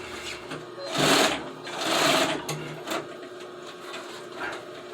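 A sewing machine stitches upholstery for old Suburban seats, running in short bursts of rapid mechanical clatter that rise and fall, close and clear in a quiet workshop.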